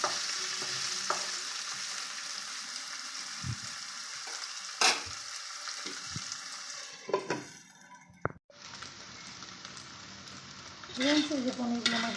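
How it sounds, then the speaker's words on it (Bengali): Paneer cubes frying lightly in turmeric-tinted oil, a steady close sizzle with stirring scrapes and a few sharp clinks from the pan, the hiss swelling again near the end. "পনিরগুলো একটু ভাজা হোক।"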